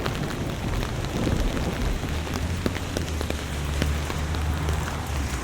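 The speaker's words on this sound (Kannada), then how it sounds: "ತುಂಬಾ ಜೋಜೋರಾಗಿ ಮಳೆ ಬೀಳಲು ಶುರುವಾಗುತ್ತದೆ" Heavy rain pours steadily in a dense, continuous hiss, with scattered louder drops pattering close by and a low rumble underneath.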